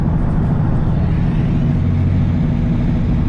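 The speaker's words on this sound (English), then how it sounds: "I still hear the thump, thump, thump sound." Steady low rumble of a car driving on the road, with a repetitive thumping running under the engine and road noise throughout.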